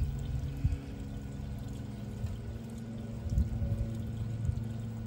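Water runs steadily onto a sealant-coated test panel, making a continuous pouring and splashing sound at moderate loudness. The pour goes on for several seconds and nothing else is heard.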